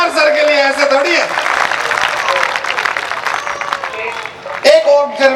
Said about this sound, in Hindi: जोरदार तालियां बजाओ यार सर के लिए, ऐसे थोड़ी है।